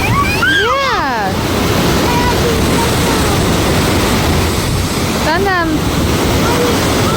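Steady roar of water at Cascade Falls on the Ohio River in Evansville, Indiana, fills the whole clip as a constant wash, with people talking briefly over it.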